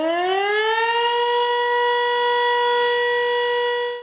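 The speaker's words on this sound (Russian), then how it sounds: "Це звуковий сигнал «Увага всім»." A civil defense "Attention all" warning siren gives a single sustained wail, rising slightly at the start and then holding a loud, steady tone before cutting off abruptly at the end.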